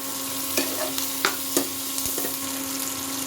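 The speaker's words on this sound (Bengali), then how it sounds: "আর এই শিমলা মির্চগুলো ভেজে নেব।" Sliced bell peppers (capsicum) frying in a pan with a pinch of salt for kadhai paneer, a steady soft sizzle broken by several sharp scraping stirs and clinks, close and alone with no talk.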